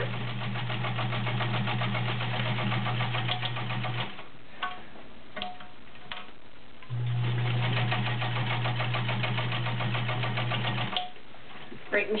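Vintage Kenmore Model 110 straight-stitch sewing machine running in reverse through layers of cotton, a steady motor whir with rapid needle clatter in two long runs separated by a brief pause.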